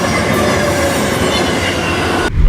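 Passenger train easing into the old Italian station at Ventimiglia, a steady dense rumble of wheels and rail noise close by, cutting off sharply near the end into a low thud.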